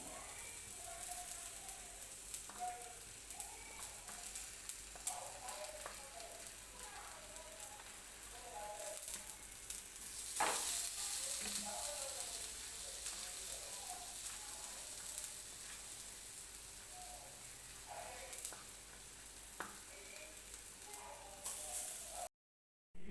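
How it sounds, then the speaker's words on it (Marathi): Rava-coated eggplant slices sizzle steadily on a nonstick tawa, a continuous close crackling hiss with small pops that holds level throughout before cutting off at the end. "ते नॉनस्टिकच्या तव्यावरती फ्राय होण्यासाठी ठेवलेलं आहे"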